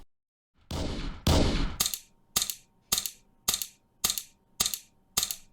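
Gunshot sound effects in a Scratch top-down zombie shooter game, about nine sharp, evenly spaced shots: two longer, heavier blasts first, then seven crisp cracks in a steady rhythm, loud and close with no talking.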